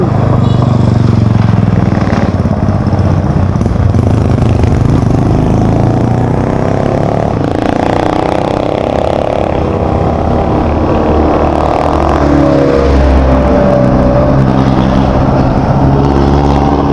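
Loud, continuous engine roar of motorcycles passing nearby, the rumble rising and falling as they go by, with no pauses.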